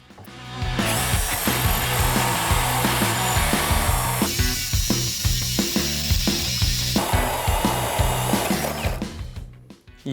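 A loud TAOE-CD35 cordless drill with a 35 mm bit whines and grinds steadily as it bores through wood, with knocking bits of debris, winding down at the end.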